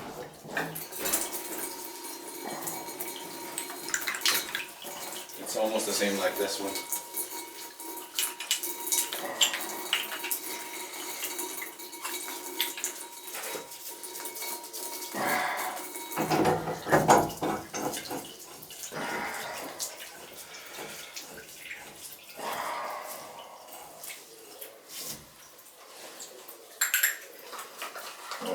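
A kitchen sink tap runs a small, steady stream of water, a soft continuous wash with scattered clinks and handling noises, while people speak briefly over it.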